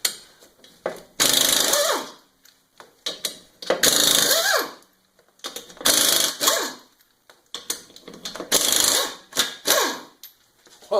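Kobalt SGY-AIR231 3/8-inch air impact wrench, driving with a chrome non-impact socket, fires in four loud hammering bursts of about a second each, separated by short pauses, with no talking.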